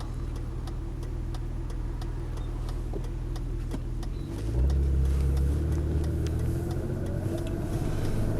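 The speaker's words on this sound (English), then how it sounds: "BMW 635 CSI automatic for a spin." A BMW 635 CSI with an automatic gearbox drives along in traffic, its engine a steady low drone heard from inside the car, then swelling louder and deeper as it accelerates midway with a regular ticking underneath.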